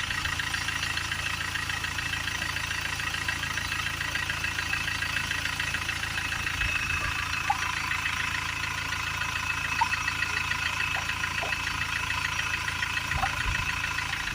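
A Mercedes E-Class 2.1 engine idles steadily at close range after a water pump replacement, a constant low rumble with a faint rhythmic knock and a few small clicks.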